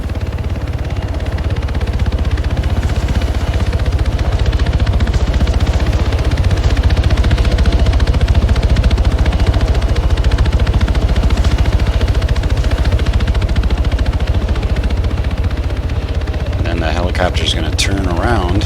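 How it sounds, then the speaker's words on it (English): A video game helicopter carrying paratroopers keeps up a steady, loud rotor and engine drone that holds for the whole stretch. A voice talks over it, and a few sharp crackles sound near the end. "Helicopter's going to turn around"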